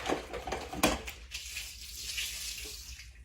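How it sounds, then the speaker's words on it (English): Kitchen tap running water into a sink to draw dishwater while baking a Thanksgiving orange slice cake, a steady close wash of splashing flow with a few brief clinks, no talking. "Let me get me some dishwater."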